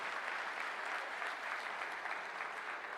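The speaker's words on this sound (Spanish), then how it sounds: "Desen un aplauso porque lo están haciendo muy bien" A church audience applauds during a conference service, an even, continuous patter of many hands clapping, heard softly at a distance.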